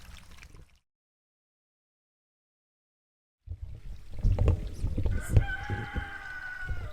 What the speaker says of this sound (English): Let's hurry up before the rooster starts crowing.